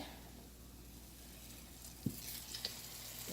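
Ghana tatale pancakes frying in palm oil over medium-low heat, a soft, quiet sizzle with a few faint clicks and taps near the end, no speech.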